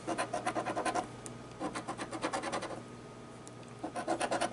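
A coin or scraper scratches the coating off a $30 extreme crossword scratch lottery ticket, in quick rasping bursts separated by short pauses, close and fairly quiet.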